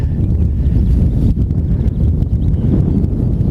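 Steady outdoor wind buffets a hillside in the Kilpatrick Hills of Scotland at a wild camp, a continuous loud low roar with gusty swells and no speech.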